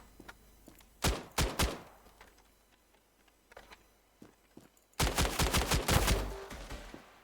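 Gunfire from the mobile shooter Standoff 2 in a 2v2 match: a few separate sharp shots early on, then a loud rapid burst of repeated shots near the end, with quieter game noise between.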